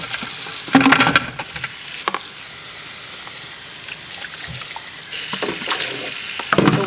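Black walnuts are dropped and stirred in water in a kitchen sink, with splashing bursts, clattering nuts and running water, fairly close and with no speech.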